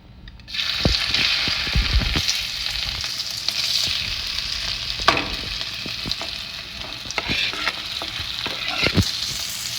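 Hot oil tempering for a potato filling, with asafoetida added. The loud sizzle flares suddenly and then holds steady, broken by sharp clinks and scrapes of stirring close by.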